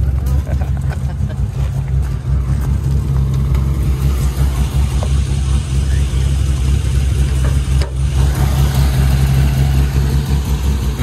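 A Nissan S15 idling with its exhaust rumbling low and steady close by, a constant throaty drone that holds through the whole stretch with a brief rise near the end.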